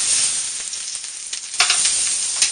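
Salmon and steak sizzle under a hot broiler, a bright, steady hiss of frying fat with a few louder spits and crackles breaking through near the end, no one speaking.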